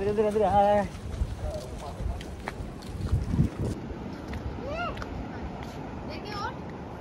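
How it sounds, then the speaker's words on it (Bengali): Strong wind on a beach at Mandarmani buffets the microphone with a low, gusty rumble while people talk over it. "সুপার সুপার হাওয়া দিচ্ছে"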